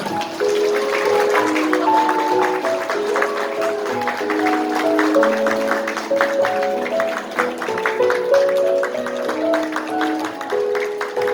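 Steady clapping from a crowd at a wedding ring exchange, carried along under bright, melodic music that plays throughout.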